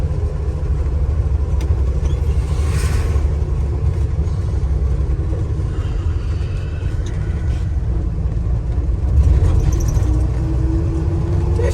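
A 1965 GMC 1000 short-bed Fleetside pickup with a three-speed column shift drives along, its steady mid-pitched engine rumble and road noise continuous and fairly loud, with no talking.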